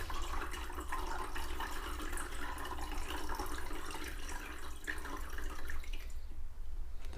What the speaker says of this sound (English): when I pour in the water